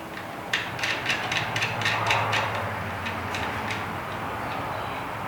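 A ratchet tightens a nut onto a battery stud while a 1960 Ford F100 pickup is being revived, giving a quick run of close, crisp clicks that stops, over a faint background hum.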